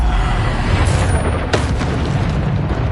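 A Bombarda spell explodes in Hogwarts Legacy, a loud, dense rumbling boom that fills the moment, with a sharper burst about halfway through over continuous low game noise.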